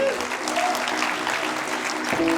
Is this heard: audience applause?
yes